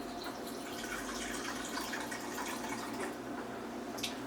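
Water, a little over half a cup, is poured into a blender while making Jamaican lentil curry, giving a steady, even liquid rush that runs the whole time with no talking.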